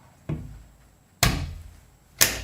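Three sharp clicks and clacks about a second apart, each with a short ringing decay, as a bathroom door latch in a shuttle bus RV conversion is flipped down, with a faint steady hum underneath.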